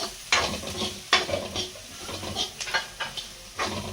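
Onions and grated coconut fry for coconut rice while a spoon stirs them, giving sharp scraping strokes every half second or so over a continuous sizzle, close, with no talking.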